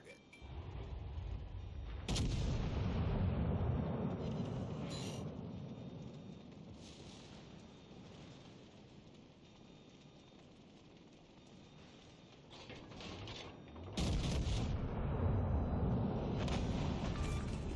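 Booming artillery fire in a war video game rolls out in heavy, sustained blasts, with two loud surges and a rumbling lull between them, close and dominant.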